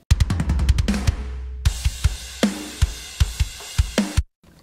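Metal drum kit processed with parallel compression through a JST Bus Glue plugin: punchy kick and snare hits with cymbal crashes in a steady groove, loud and up front, alone without talk.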